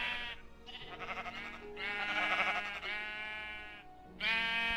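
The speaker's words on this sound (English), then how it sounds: "prepare your ears, there's a lot of sheep" Many sheep bleat on a Minecraft wool farm, overlapping nasal cries in quick succession with brief gaps, one after another and sometimes layered, fairly close and with no talking.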